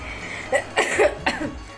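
Several harsh coughs in quick succession, close and fairly loud, with no talking.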